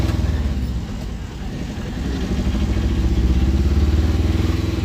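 A vehicle rides along the Noakhali–Dhaka highway, its engine giving a steady close rumble with clattering road noise and thuds, growing slightly louder toward the end.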